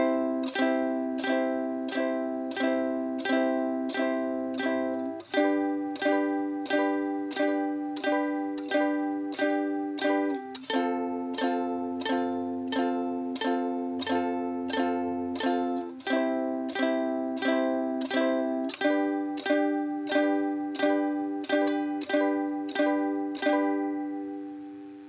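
Ukulele strumming the chord progression of a pop song, steady rhythmic strums with regular chord changes, clear and close with no voices.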